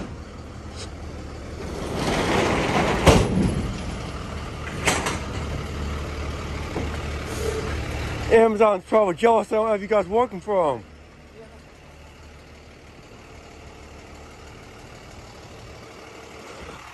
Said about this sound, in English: that's a nice international truck right here